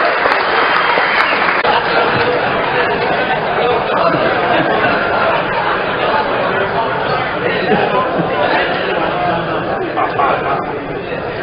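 Sustained loud applause from a live comedy audience after comedian Darren Carr's set, dense clapping mixed with crowd chatter and a few cheers throughout.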